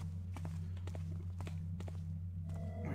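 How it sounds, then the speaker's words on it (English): A patrolling guard's footsteps in the stealth game Thief, a series of distinct treads spaced roughly every half second, moderately close and fading slightly, over a steady low ambient drone. "I hear footsteps."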